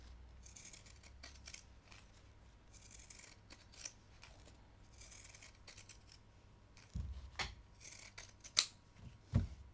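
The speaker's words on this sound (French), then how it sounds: "vous pouvez aussi couper au ciseau normal et pensez à bien cranter les arrondis" Scissors snip through fabric for a half-moon coin purse, a series of quiet, close cuts with soft rustling of cloth between them, the last few snips sharper and louder.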